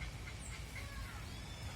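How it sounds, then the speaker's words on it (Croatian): A goose at a zoo in Montevideo gives a few faint, distant honking calls over a low background hum. "I neka guska."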